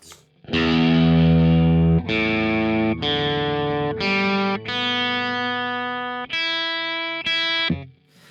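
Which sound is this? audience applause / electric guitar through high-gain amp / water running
electric guitar through high-gain amp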